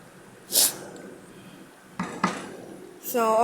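Curry with green chili being mixed in a pan at home, with a few metal clinks and scrapes of a utensil against the pan, separated by quiet gaps and ending in a brief tonal sound.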